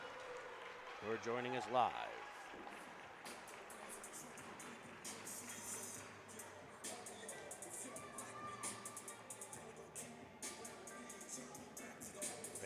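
A crowd at a youth hockey game, the Pens Elite against the Chicago Reapers in the Mid Winter Classic final, keeps up a diffuse murmur and scattered clapping in an arena while a commentator talks over it throughout.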